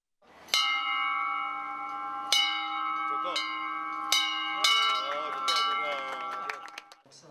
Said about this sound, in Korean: 역사박물관에서 종소리와 함께 순례길 여정이